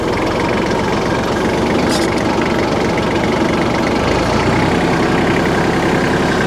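Tractor engine in four-wheel drive running at slow speed while stirring hay on a sloping field, a loud, steady low diesel rumble heard close up throughout with no talking.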